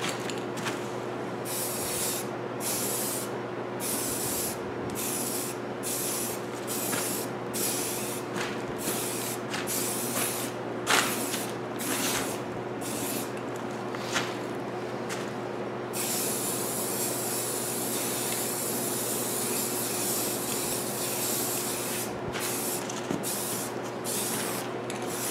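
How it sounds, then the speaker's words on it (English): Spray painting alloy wheels with an aerosol can, a series of short hissing bursts with gaps between them, then one long sustained spray, close by over a low steady hum. "we're not going to bore you to tears having you watch me spray paint."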